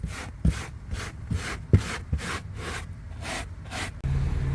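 Stiff brush scrubbing inside a car, rhythmic back-and-forth strokes with a few sharp knocks, close up, then a steady engine idle hum as the vehicle runs.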